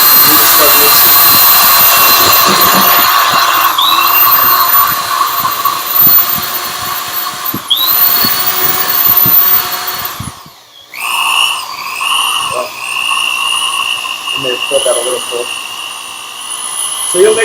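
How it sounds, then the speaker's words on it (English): A power drill mixes sugar water for shaved ice, its motor whining loud and steady, with pitch sweeps as it speeds up and slows, and a brief cutout before it runs again. Someone speaks over it. "So you'll mix it for a couple minutes, and this drill, just to give you a heads up, so normally drills have a lock on them"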